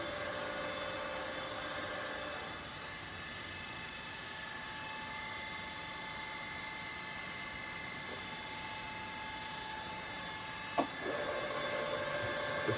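A ZJ Z3050x16/1 radial arm drill from China idles its spindle at its minimum 25 rpm, giving a steady, even machine hum with a faint tonal whine and one sharp click near the end.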